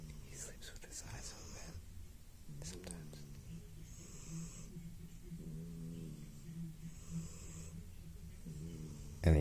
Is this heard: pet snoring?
yes